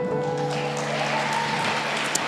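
An audience claps steadily and fairly loudly at a live stage event, with continuous dense applause and a faint tonal hum underneath.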